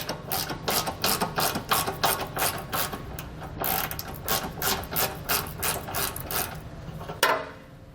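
Ratchet wrench loosening bumper beam bolts on a 2017 Mercedes-Benz GLE, a rapid series of close, sharp clicking bursts with brief pauses between strokes, ending in a metallic clunk.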